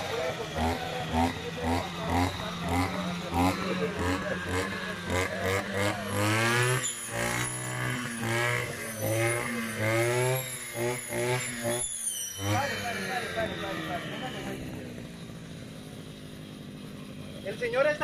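A Husqvarna 541RS brush cutter fitted with a multipurpose disc runs nearby, its two-stroke engine blipping in quick rhythmic bursts and then revving in long rising and falling sweeps before settling.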